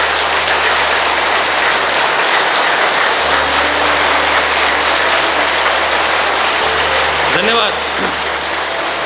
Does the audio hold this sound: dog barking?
no